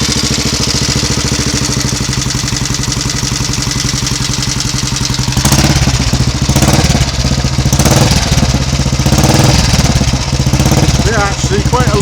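Royal Enfield Bullet 350 single-cylinder motorcycle engine running and warming up after top-end work, loud and close, with a steady idling thump that roughens and rises partway through.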